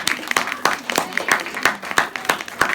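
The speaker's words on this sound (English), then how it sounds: "Ooh, you've done a lovely round of applause." Children and parents at a second-grade school music recital clap in a loose, uneven patter, individual claps standing out sharply in a small room.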